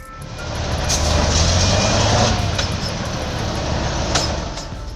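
A Tatra 815 heavy truck engine rumbles steadily nearby, a low droning roar that swells slightly and holds for several seconds with no voices.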